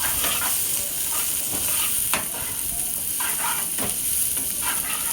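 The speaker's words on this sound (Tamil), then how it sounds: "நல்லா கிளறி விடுங்க வெங்காயத்தை." Onions and curry leaves sizzle steadily in a hot pan of oil while a spoon scrapes and stirs through them in repeated strokes, close and continuous, with no voices.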